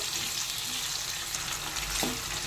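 Pumpkin and potato pieces fry in oil in a pan with a soft, steady sizzle that stays faint throughout, with a light clink near the end.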